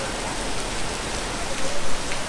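Steady rain hiss drumming on a car on the road, close and continuous, swelling slightly louder toward the end.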